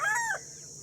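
A single short call from a broody hen, a brief rising squawk-cluck, sounds close by and then fades into quiet.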